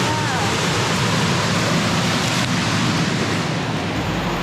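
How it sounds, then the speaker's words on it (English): A double waterfall pours steadily below cliffs, a constant broadband roar that stays loud and unbroken throughout, with no voices standing out. "Oh, it's like a double waterfall."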